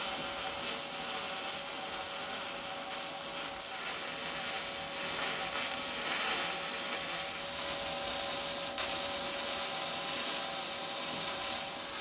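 A homemade rotisserie mount is cleaned up with a power tool on metal, giving a steady, loud, high-pitched abrasive whine that holds nearly unchanged throughout, with no talking.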